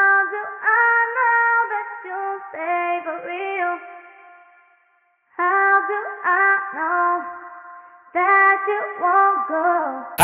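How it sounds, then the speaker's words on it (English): R&B vocal line treated with reverb, delay and a Decimort filter plugin for a filtered sound, singing in three sustained melodic phrases with a short gap, echo tails trailing each phrase. "So I went in and added some reverb to give it some space"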